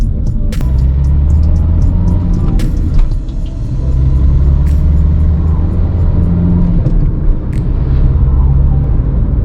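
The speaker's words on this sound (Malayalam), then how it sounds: "ഞാൻ ഇപ്പോൾ ഡ്രൈവ് ചെയ്യുന്ന കാണുമ്പോൾ നിങ്ങൾക്ക് മനസ്സിലാവുണ്ടാവും ശരിക്കും ഏതൊരു ടറൈനും പറ്റിയ വെഹിക്കിളാണ്." A Renault Duster is driven steadily, with a loud, constant low engine and road rumble from inside the cabin, plus a few faint clicks and knocks over the drone.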